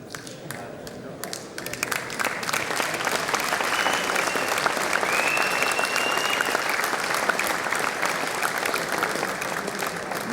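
Sustained applause from an audience at a Slovenian beekeepers' holiday ceremony, greeting an award recipient; steady dense clapping fills the whole stretch after a brief quieter start.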